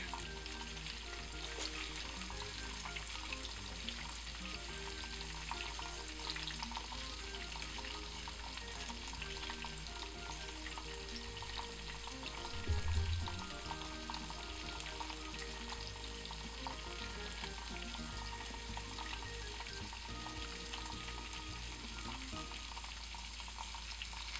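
Whole unpeeled garlic cloves frying in hot oil with onion in a pan for steak, giving a steady, close sizzle that runs throughout with a brief louder burst midway.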